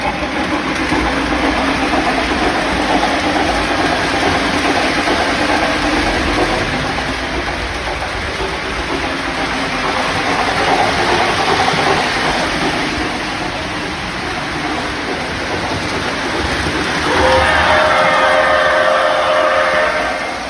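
A Lionel Camelback toy steam locomotive runs steadily on its track, a continuous close mechanical rumble and whir of motor and wheels holding even for the whole stretch, with a brighter tonal hum entering near the end.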